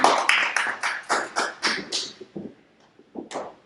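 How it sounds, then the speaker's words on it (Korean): Seminar audience applauding an incoming speaker at a high school math strategy session, a burst of brisk clapping that thins out into scattered claps before a few last ones. "큰 박수 부탁드리겠습니다"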